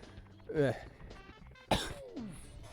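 Two separate coughs from a person with a cold, one short and one sharper and louder, come close to the mic and are spaced about a second apart, with a little throaty voice after.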